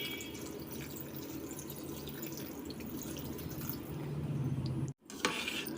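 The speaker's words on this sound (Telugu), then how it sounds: "ఇప్పుడు ఇందులోనే మనం కొంచెం చల్లని నీళ్ళు వేసుకుందామండి" Cold water is poured over boiled pasta in a bowl: a quiet, steady trickle and splash that swells louder near the end, then cuts off abruptly.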